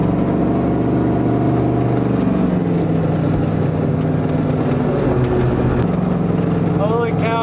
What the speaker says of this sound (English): Let's go for a ride around the block.